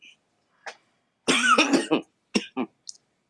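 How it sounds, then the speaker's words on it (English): Several coughs and throat-clearing sounds come in short separate bursts with quiet gaps between them, close and fairly loud. "Ignore the coughs."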